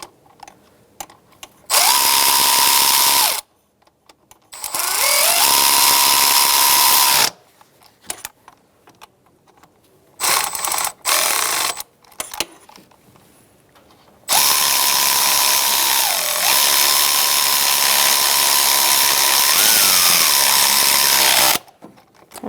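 A power tool fitted with a 10mm socket snugs knock sensor bolts on a 2010-2013 Kia Soul 2.0L L4 engine, running in several loud whirring bursts of a few seconds each, separated by short quiet pauses.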